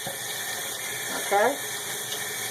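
Tap water running steadily into a sink while black paint is washed from an art brush, a close continuous stream with a brief spoken word over it.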